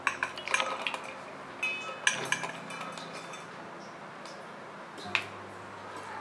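Coconut being added for Konkani solkadi, with light clinks and soft scraping taps of a spoon against a vessel, close up, most of them in the first two seconds, then a few isolated knocks, without speech.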